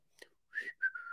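A few short whistled notes, a brief chirp followed by two sliding tones, the last held a moment, quiet and close.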